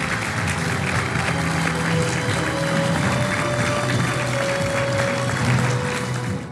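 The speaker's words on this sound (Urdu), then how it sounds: "امریکہ، قطر، ترکی اور مصر کے صدور نے دستخط کیے تو ہال تالیوں سے گونج اٹھا۔" Steady applause fills a hall at a Gaza peace agreement signing ceremony, continuous dense clapping from a large audience with a faint tone underneath, even in level throughout.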